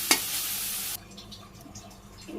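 Leafy greens (shak) frying in oil in a pan over a clay stove, a bright loud sizzle after a sharp clatter, then cutting off to a quieter background with soft scrapes.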